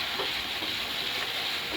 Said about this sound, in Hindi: इसे खूब अच्छे से भूनेंगे।